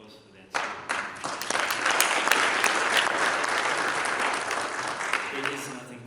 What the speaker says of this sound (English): I think all of you deserve a round of applause for that.